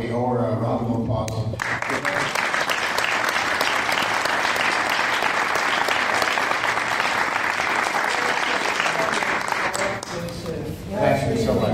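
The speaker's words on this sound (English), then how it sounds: "We owe her a round of applause." A studio audience breaks into sustained applause for a guest, loud and dense clapping that carries on for about nine seconds before fading, with a voice speaking briefly at the start and the end.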